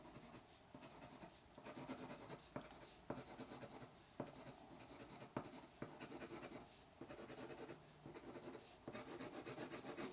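Colored pencil strokes on paper, applied up and down over yellow: a quiet, steady scratchy rubbing with repeated short strokes, close and alone.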